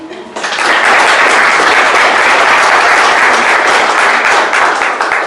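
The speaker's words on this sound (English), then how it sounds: "give them a nice round of applause" An audience at a renewable energy event bursts into loud, dense applause after a quiet moment, with many hands clapping steadily for several seconds.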